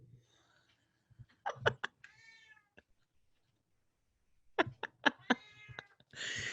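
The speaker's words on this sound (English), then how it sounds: "Do you hear my cat?" A cat meows several times in two bursts, fairly close, with a quiet pause between them and a rustling noise at the end.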